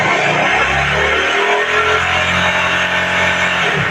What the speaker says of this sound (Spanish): Vamos a acelerarla la moto.